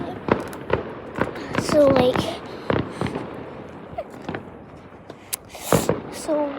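Fireworks and firecrackers bursting on bonfire night, a string of sharp cracks and bangs at irregular intervals, some close and loud, with whistling rockets and someone talking excitedly in between.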